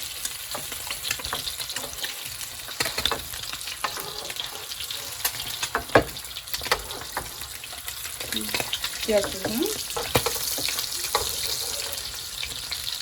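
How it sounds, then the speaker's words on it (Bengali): Food frying in hot oil with a continuous crackling sizzle and frequent small pops and spatters, fairly close and busy throughout, no talking. "রান্না করতে গেলে একটু তেলের ছিটা আসবে"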